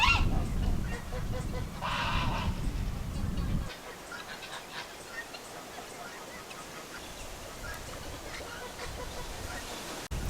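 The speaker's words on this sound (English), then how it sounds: "So there's geese and turkeys and ducks, chickens, a right little zoo right here." Honking and squawking geese, turkeys, ducks and chickens call loudly at first, then fade to quieter scattered calls over a steady background hum.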